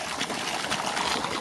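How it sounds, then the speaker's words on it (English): Water flowing in an outdoor stream below mountains at sunset, a steady, close rushing babble that fills the whole stretch without any talking. "The water is flowing."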